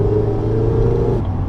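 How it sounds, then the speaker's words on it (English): A 2016 Mazda MX-5 GT engine pulling hard under acceleration, a loud close rumbling induction growl with a rising tone that cuts off abruptly near the end, as if the throttle lifts. "That induction noise just sounds really good."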